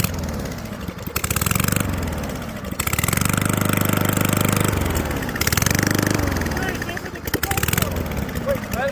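A lawn mower engine under a torture test chugs and surges loudly in repeated bursts, rising and falling over several seconds, with people shouting over it.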